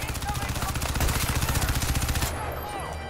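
Rapid automatic gunfire in the shooter game Crysis 2, a loud sustained burst of evenly spaced shots for over two seconds, then a quieter stretch of game ambience.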